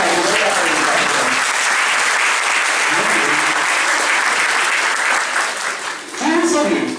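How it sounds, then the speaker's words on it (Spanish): A church congregation claps loudly and continuously at Sunday Mass, dense applause filling the room, with brief voices rising near the end as the clapping eases. "Un aplauso para Jesús por la ayuda de la predicación."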